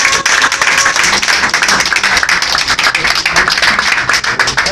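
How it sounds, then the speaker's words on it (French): A church congregation at a prophet's service bursts into applause, dense rapid clapping that stays loud and steady throughout with no clear speech. "Applaudissez."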